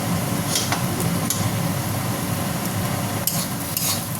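Egg frying and being stirred in a pan while cooking egg chow mein, a steady hiss with scraping stir strokes and a few clinks throughout, close and continuous.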